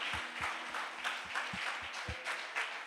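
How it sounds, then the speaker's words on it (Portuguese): A church congregation claps together, a faint, steady patter of many hands with a few louder rhythmic beats, heard from a distance in a reverberant hall. "Aplauda ao Senhor em nome de Jesus."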